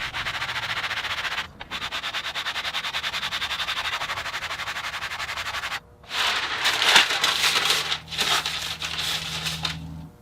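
Sandpaper rubs rhythmically back and forth over a wooden acoustic guitar brace being shaped to its final radius, close and steady, with two short pauses and a scratchier, uneven burst of strokes toward the end.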